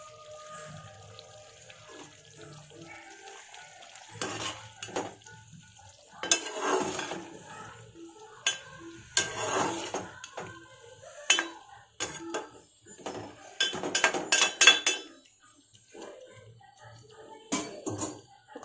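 A spoon stirs mixed vegetable curry with green chillies and coriander in a pan, giving irregular scraping and clattering strokes against the metal over a soft simmer, close by.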